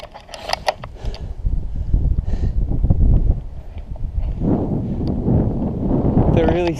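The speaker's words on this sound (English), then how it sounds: "It's a really stiff headwind." Gusty headwind buffets the microphone during a bikepacking ride, producing uneven low rumbling rushes that swell and ease, with some faint rattles and clatter from the bike.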